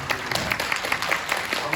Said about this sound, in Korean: 여러분 응원의 박수 한번